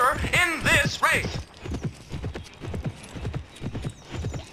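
Rhythmic clip-clop of horse hooves galloping in a race in the Petz: Horse Club video game, steady and close, with a brief whinny at the start and faint background noise.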